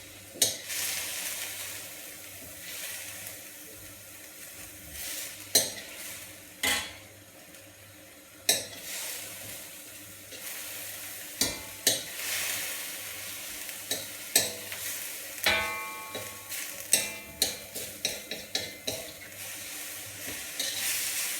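Garlic and onions sautéing in a hot pan for Xinjiang-style logman: a steady sizzle under frequent sharp clacks and scrapes of a utensil against the pan, growing busier toward the end, with no voices.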